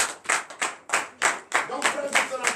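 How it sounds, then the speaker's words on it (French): A church congregation at a morning prayer service in Benin claps in acclamation, a close, sharp run of roughly a dozen hand claps in an uneven rhythm over a couple of seconds. "Donne l'acclamation"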